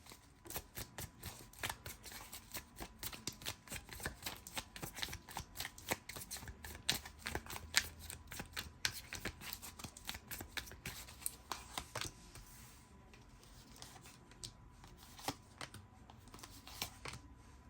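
Tarot cards being shuffled by hand, a dense, continuous run of papery riffles and slaps that goes on throughout at close range, with no talking over it.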